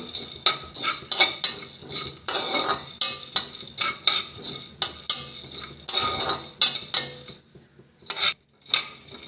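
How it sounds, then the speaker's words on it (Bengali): Whole black pepper, cinnamon and cloves dry-roasted in a light pan, a utensil scraping and clinking against the metal in quick repeated strokes, close and clear, with faint crackle and no voices. "গোলমরিচ, দারুচিনি আর লবঙ্গ, এটা একটা হালকা কড়াইয়ে নেড়ে নেব, নিয়ে অল্প করে একটু ভেজে নেব।"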